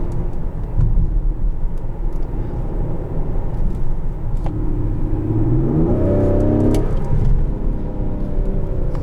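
2020 Ford Explorer ST engine in sport mode, heard from inside the cabin, rumbles steadily and then revs up with a rising, loud growl as it accelerates, holding a strong drone to the end.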